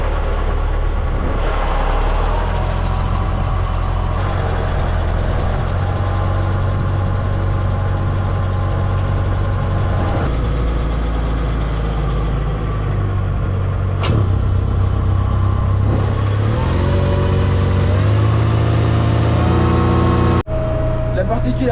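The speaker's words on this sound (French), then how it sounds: "La prise de force fait tourner un moteur hydraulique." A tractor's PTO spins the hydraulic motor of a Pichon slurry tanker on a farm, giving a loud, steady low engine drone with a mechanical hum that shifts pitch near the end.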